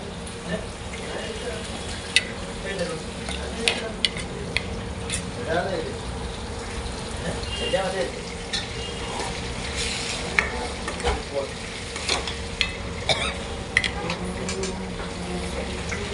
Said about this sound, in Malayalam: നമ്മൾ ഒതുക്കി വെച്ച തേങ്ങ കുറേശ്ശെ വഴറ്റി കൊടുക്കാം.